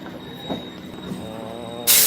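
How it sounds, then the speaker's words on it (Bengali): A train pulls in during the evening with a steady metallic hiss and faint tonal whine. A sudden loud burst of hissing noise breaks in at the very end. "ট্রেন চলে এসছে"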